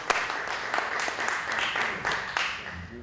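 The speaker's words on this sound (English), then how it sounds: "I would love for you guys to give yourselves a nice little round of applause" A small audience claps after a spoken word poetry event, a brief, thin patter of hands lasting a few seconds at moderate distance, fairly soft and uneven rather than a full ovation.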